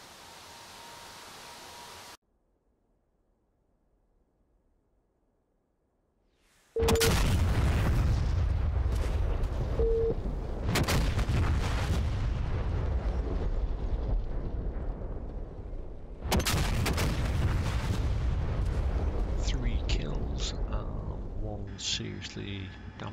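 Several 500 lb JDAM bombs from a Harrier detonating in the DCS flight simulator game, arriving as heavy, loud booms with long rumbling tails, a first blast near seven seconds and another burst around sixteen seconds, alone without talk.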